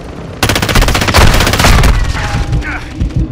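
Rapid automatic gunfire in the game DMZ, a loud close burst of rattling shots lasting about a second and a half, trailing into scattered reports and game effects while a voice calls out.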